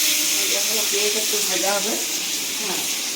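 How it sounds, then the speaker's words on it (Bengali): Chopped onion frying in hot oil in a pan for a Bengali jackfruit curry, a steady close sizzle and hiss running throughout with faint stirring. "পেঁয়াজটা ভাজা হোক"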